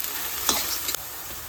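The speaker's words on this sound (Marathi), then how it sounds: "आता मसाल्यामध्ये परतवून घेतो" Masala with turmeric and red chilli powder sizzles in released oil as a spoon scrapes and stirs through it, a soft continuous fry with a few sharper scraping strokes, close up and with no voices.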